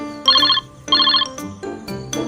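A mobile phone rings with an incoming call, its electronic ringtone repeating in short, bright melodic bursts, loud and close, with no talking over it.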